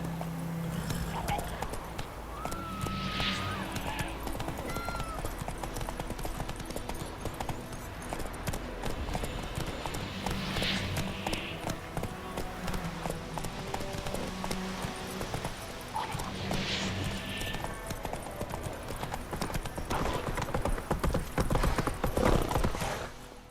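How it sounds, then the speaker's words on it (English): Horse hooves clip-clopping at a quick pace in the video game The Witcher 3, a steady rhythmic drumming that carries on throughout beneath game music, shouting voices and other effects. "Whoa there, Roach"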